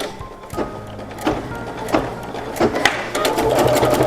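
A sewing machine stitches a trimming line on a fabric center panel in short bursts of whirring needle runs, nearby and fairly loud, with pauses and handling clunks between them.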